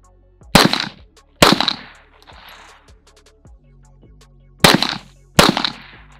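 Four loud, sharp pistol shots from a Canik TP9SFX, fired in two spaced pairs at an outdoor range, each crack ringing out briefly with faint background noise between.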